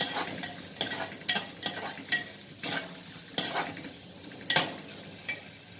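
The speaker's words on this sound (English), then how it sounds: "I'm next going to add the onions alone. And let's saute it." Onions saute in oil in a pan, making a steady close sizzle. A spoon scrapes and stirs through it at an uneven rhythm.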